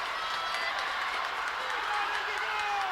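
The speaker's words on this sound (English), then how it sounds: "Crowd really picking it up for Izzy here, trying to help her get that final push" A crowd cheers and claps loudly and continuously at a girls' swimming section final race, a dense, sustained roar of support during the last lap.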